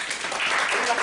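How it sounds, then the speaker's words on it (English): Brief burst of audience applause after a stage hypnosis demonstration, a dense wash of clapping from a small crowd, fairly close and steady throughout. "Give a round of applause, guys."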